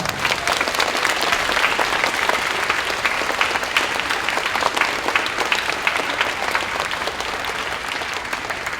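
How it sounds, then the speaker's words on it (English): Sustained applause from an audience at a 5th grade moving-up ceremony, honoring volunteers: a dense, even roar of many people clapping that carries steadily for nearly nine seconds, fairly close and with no talk over it. "this round of applause is for you"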